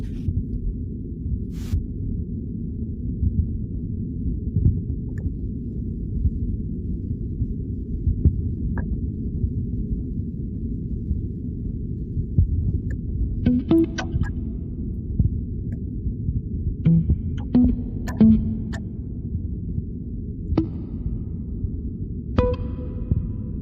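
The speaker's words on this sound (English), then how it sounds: "you get little ice quakes, not earthquakes, but ice quakes. So here's the sound of those," Ice quakes recorded beneath the Antarctic ice sheet: a steady low rumbling drone with scattered sharp cracks and pops that come more often toward the end, all fairly faint and with no voices.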